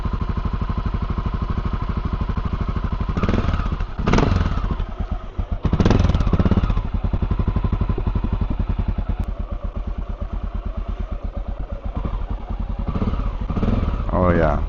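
A Honda XR650L single-cylinder motorcycle engine idles steadily while warming up, a close, continuous rhythmic thumping with a few brief revs and clattery bursts along the way.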